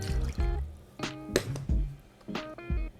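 Water is poured into a bowl of wet cupcake batter ingredients, sounding as close liquid splashes and gurgling bursts with short pauses between them.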